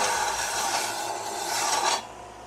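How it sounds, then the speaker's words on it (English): A belt sander grinds along the edge of a workpiece in a steady, loud broadband rasp that runs for about two seconds, then cuts off and leaves quieter motor hum. "Let me straighten up this one more edge just since I'm already working on the belt sander."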